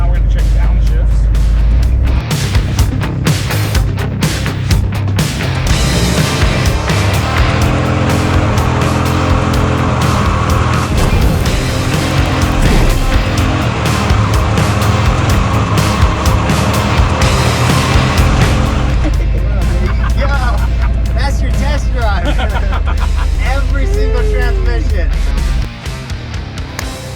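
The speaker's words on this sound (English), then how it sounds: "Now we're going to check downshifts." A car fitted with a 700R4 automatic transmission on a test drive, engine revving up and down through downshifts, loud and continuous interior drone with shifting pitch.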